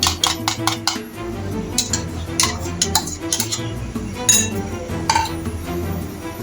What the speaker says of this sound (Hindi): अंडा इसके अंदर ही मिक्स कर लेते